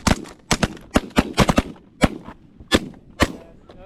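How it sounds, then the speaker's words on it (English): Shotguns boom at geese during a hunt, a dozen sharp close blasts fired in quick uneven clusters, several almost overlapping, with brief quiet gaps between them. "I called the shot."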